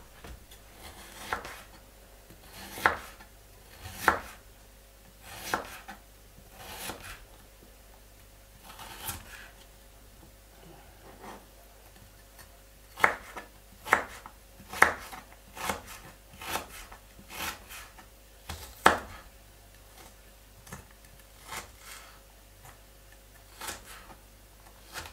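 A knife cuts ginger in a home kitchen, with sharp, irregular taps and scraping strokes on a board spread through the clip and pauses between bursts.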